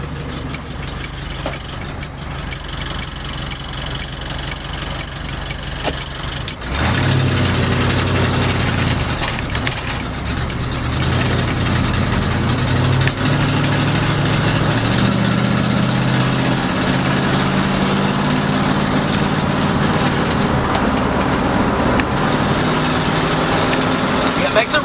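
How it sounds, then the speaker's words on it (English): A 1965 Ford Galaxie engine idles roughly, then jumps into a loud, steady run at throttle, its deep exhaust drone holding close and continuous. "Got no problem once you go full throttle."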